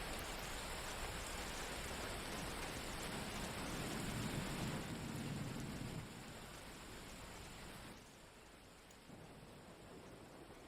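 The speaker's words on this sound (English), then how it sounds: "and it's raining." Steady rain pours down in a dense hiss, with a low rumble of distant thunder in the middle that fades away; no voices.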